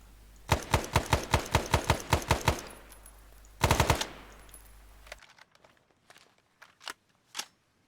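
Rapid automatic gunfire fired into the air in the Arma 3 Vietnam setting: a loud burst of about nine close shots, a pause, then a short second burst, trailing into fainter distant pops and echoes.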